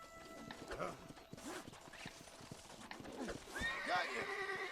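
A horse in the Red Dead Redemption game whinnies and snorts several times while hooves clip-clop nearby, with a voice and other game sounds mixed in.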